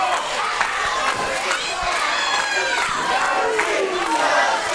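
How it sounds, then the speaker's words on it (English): A wrestling crowd at a community championship match cheers and shouts for a wrestler trying to make a tag, a dense roar of voices with rising yells throughout. "This crowd getting behind the flying hillbilly Dusty Money"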